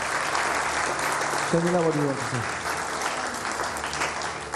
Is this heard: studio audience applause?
yes